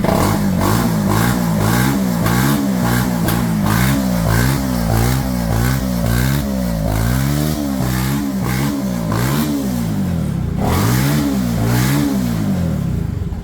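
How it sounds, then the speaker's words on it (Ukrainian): A small Viper V250CR moped engine revs up and down repeatedly, loud and close, with a steady buzzing drone between throttle bursts. "Як бачимо, мопед не димить, оберти набирає бадьору."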